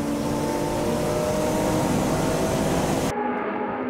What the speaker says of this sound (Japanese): 2台が並んで立ち上がってストレート勝負。